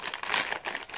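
A Japanese Popin' Cookin' candy kit's plastic packaging is torn open by hand, a short burst of close crinkling and crackling.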